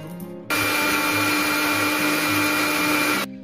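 Cumin seeds and turmeric powder being ground into a fine paste in a kitchen blender, a steady loud whirring motor drone that starts abruptly, runs for about three seconds and cuts off.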